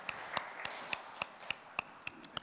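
A congregation claps during a Sunday morning church worship service. The claps are soft and evenly paced, forming a steady rhythmic patter that sounds somewhat distant in a quiet hall.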